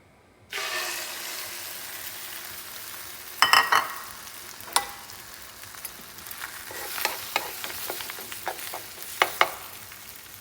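A freeze-dried egg poured into a hot pan bursts into a loud, steady sizzle that holds throughout, with sharper spatters and scraping clicks scattered over it, close by and without speech.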